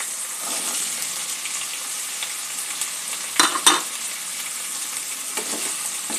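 Potatoes and ridge gourd frying together in a pan, a steady close sizzle with a couple of sharper stirring clatters partway through.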